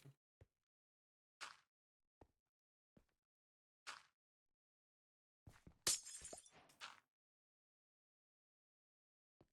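Glowstone blocks breaking in Minecraft, a series of sharp glassy shattering cracks spaced irregularly, with a denser cluster of breaks near the end, quiet between hits.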